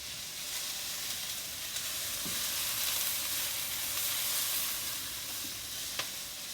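Two cloves of garlic sizzle in a hot pan for a cauliflower vegetable stir-fry, a soft, steady frying hiss with occasional faint pops and stirring scrapes.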